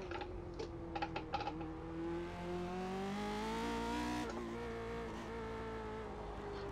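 A Lotus race car in the iRacing sim holds a steady, droning engine note at light throttle, its pitch slowly climbing and dipping through a corner, with a few clicking taps near the start.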